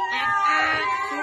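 A child imitates a cat with a drawn-out, wavering meow, voiced close and loud as a single sustained cry.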